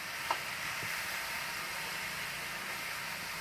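Sweet pumpkin pieces frying in a little oil in a pan, a steady soft sizzle with faint stirring clicks, close and even throughout, no voices.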